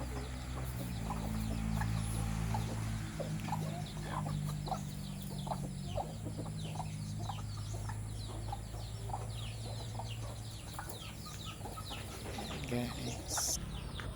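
A hen and about fifteen newly hatched chicks in a nest give steady, close clucks and a dense chorus of rapid peeping that continue throughout the clip.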